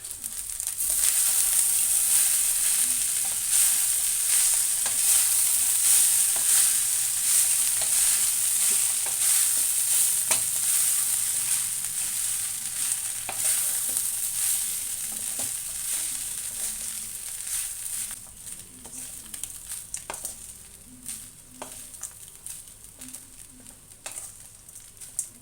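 Ajwain rice stirred in a pan, with steady scraping and soft sizzling close up. The stirring runs continuously, then thins into sparser scrapes near the end.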